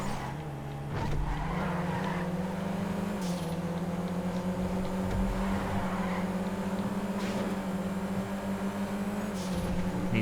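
A Panto car races in GTA 5, its engine a sustained buzzing drone that climbs and holds pitch, with brief tire skids and other race cars in the mix, fairly quiet and free of talk.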